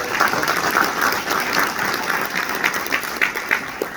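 Steady, full applause from a conference audience thanking event sponsors at a chamber legislative gathering, dense and sustained for the whole stretch with a few sharper claps standing out near the end.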